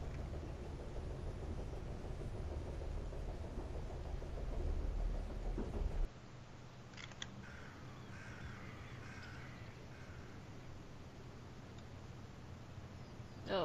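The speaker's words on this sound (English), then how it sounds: "The train's stopping." A train in The Charnel House Trilogy adventure game rolls to a stop: a loud, steady mechanical rumble runs for about six seconds, then drops abruptly to a quieter, hollow ambience with faint high tones.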